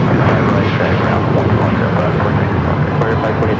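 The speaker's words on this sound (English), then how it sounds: "Sun Country Airlines Flight 8501 heading to Kona to 737-800 in the hybrid livery. Going to be taking off here" A Sun Country Airlines Boeing 737-800 in hybrid livery takes off from the south side at LAX, its engines giving a loud, steady broadband roar that holds throughout, with some speech mixed in.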